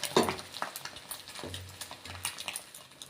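An egg frying in a pan in a home kitchen, with a soft sizzle and the scrape of a utensil, plus a few small clinks, quiet and close.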